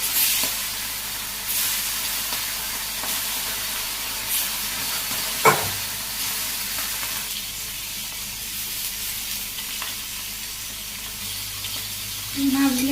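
Pieces of snakehead fish fry in plenty of hot oil in a wok, producing a continuous dense hissing sizzle up close with a brief clatter midway, no voices.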